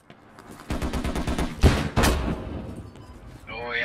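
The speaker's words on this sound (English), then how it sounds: "Oh yeah, they're shooting." Gunfire in the military shooter Squad: a rapid burst of close shots followed by a couple of heavier reports, with a voice speaking over the end of the clip.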